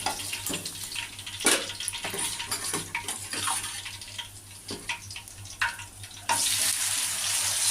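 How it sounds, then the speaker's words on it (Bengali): Fish pieces frying lightly in a pan of oil for a spicy butter-fish dish, a steady crackling sizzle with sharp spattering pops throughout, close and clear with no talking. "অল্প হালকা ভেজে ভেজে মাছগুলো তুলে নেব"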